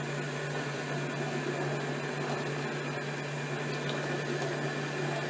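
An electric mixer running on its lowest setting, creaming butter with white sugar in a bowl, gives a steady low mechanical hum with a constant tone, alone and without speech throughout.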